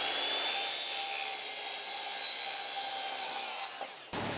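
A saw cuts through wooden boards for a small deck, a steady loud rasping stroke that runs for several seconds before the blade breaks through and stops.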